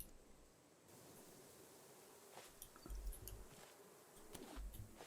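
Bees buzz faintly in the Raft video game, a soft insect drone rising and falling with a few louder swells, heard under quiet ambient game sound.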